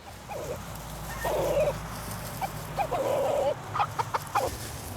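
A small flock of twelve laying hens clucks at moderate distance, several drawn-out calls and then a run of quick, choppy clucks over steady outdoor background noise.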